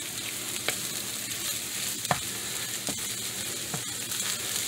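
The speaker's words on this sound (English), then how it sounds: "I'm going to keep stirring it because I don't want it to burn." Pork chorizo and eggs frying in a pan over lowered heat, with a steady broadband sizzle and a few sharp scrapes of the spoon as it is stirred. No one speaks.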